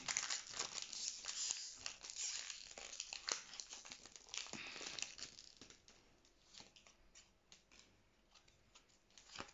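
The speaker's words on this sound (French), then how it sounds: "Moi j'ai eu un booster vraiment chiant à ouvrir." A Pokémon card booster pack is torn and crinkled open close up, with quiet rustling, crackling foil and short tearing bursts that ease off toward the end.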